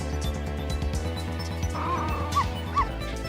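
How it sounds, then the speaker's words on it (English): A small dog in the video game Ghost Trick barks and whimpers in short yips over a looping, rhythmic game music track. "Don't you dare shoot that doggy."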